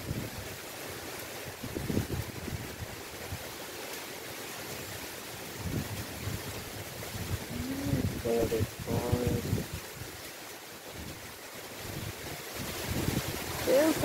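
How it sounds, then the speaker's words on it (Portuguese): Strong storm wind roaring and buffeting steadily with gusty surges, heavy broadband rush throughout, with occasional faint voices underneath. "Misericórdia, que vento."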